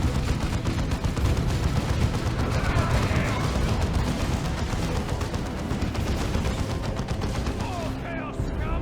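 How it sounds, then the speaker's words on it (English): Artillery barrage from Basilisk self-propelled guns in Dawn of War 2 Retribution, heard as a dense, continuous roll of overlapping shell blasts and gunfire that stays loud throughout the battle. "here comes another creeping Basilisk Barrage"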